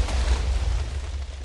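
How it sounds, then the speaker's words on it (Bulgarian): A Minecraft explosion booms with a deep, rumbling roar that fills the moment, loud and close, fading only slightly toward the end. "Мисля, че всичко е взривено вече."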